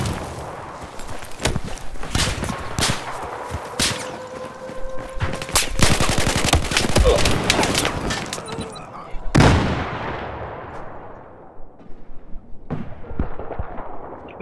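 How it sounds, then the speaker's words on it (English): Sustained Battlefield 4 gunfire in a multiplayer Conquest match on the Altai Range map, with repeated sharp shots and bursts landing close around the player, a louder cluster of impacts midway, then thinner scattered shots as the firing tapers. "Oh shit, I'm being shot."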